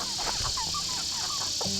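Chickens clucking and murmuring nearby in a steady chorus of short calls, with a constant hiss of background noise.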